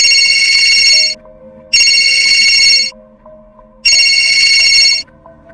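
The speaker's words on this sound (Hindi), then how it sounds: "इतना कहते ही बाबा के मोबाइल पर फोन आता है।" A mobile phone rings loud and close in three long bursts of bright, steady electronic tone with brief gaps between them, and no voices over it.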